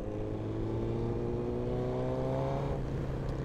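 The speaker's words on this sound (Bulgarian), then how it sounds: "Бах ти шумния мотор." Loud, steady engine drone from inside a black Suzuki car driving in Varna, a continuous rumble with rising harmonic tones as the revs climb, with no talking.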